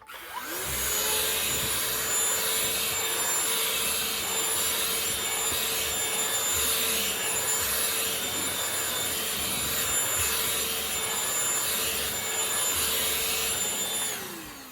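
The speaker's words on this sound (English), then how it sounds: "If I use a vacuum" A Shark Ultra Cyclone Pet Pro vacuum cleaner runs steadily for the whole stretch, a loud whining hum over scratchy rubbing as it passes over a surface, picking up pet hair.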